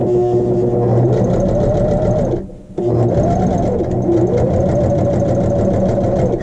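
A sewing machine runs a regular straight stitch at length 2.5, its rapid, even mechanical chatter close and loud, pausing briefly midway before resuming at the same steady pace.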